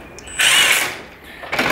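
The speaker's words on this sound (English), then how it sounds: "then we'll use a drill." A power drill tightens the locking screw of a euro cylinder lock with a short, loud whirring burst close by, winding down and followed by a brief mechanical click, with no talking.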